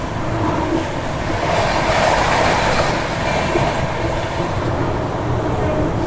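The Gorakhdham Express runs on the tracks toward New Delhi, heard as a loud, continuous rumble of rolling wheels and rattling carriages. It stays steady and close throughout.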